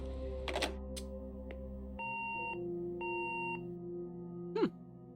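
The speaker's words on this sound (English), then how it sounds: "Double beep." A double electronic beep in the Gone Home video game: two short, even tonal bleeps about a second apart, clear and fairly quiet, with small clicks before and a brief sliding tone after.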